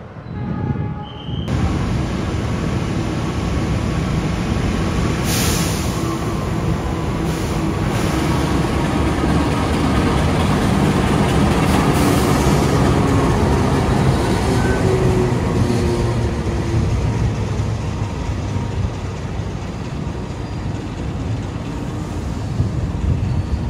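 A Taksaka passenger train pulls into a station platform from the north, from the Jakarta Kota direction, with a loud, continuous rolling rumble and a thin high whine early on that fades as the train runs in.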